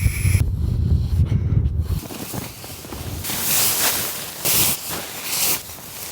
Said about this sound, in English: these gusts that are coming through, they're pretty brutal